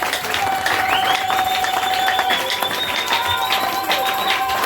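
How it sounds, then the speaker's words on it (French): Congregation applauding during a church service, a steady broad wash of clapping and crowd noise filling the whole stretch at even loudness, with no clear speech on top. "Applaudissons pour Jésus."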